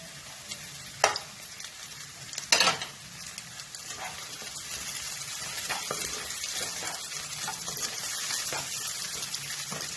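Beans and capsicum being stir-fried for fried rice, a soft sizzle with a couple of sharp utensil knocks early on, then continuous frying and stirring close by.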